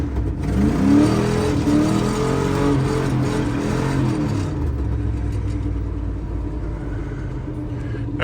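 A Big Block Chevy engine fitted with an Edelbrock carburetor rumbles loudly while the car drives, revving up with deep wavering tones before settling into a steadier, slightly quieter cruise.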